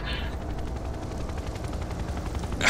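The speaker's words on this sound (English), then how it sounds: "I hear a helicopter." A helicopter in the video game Serious Sam 3 BFE thuds under dense game gunfire and rumbling, a steady rotor chop mixed into loud combat noise.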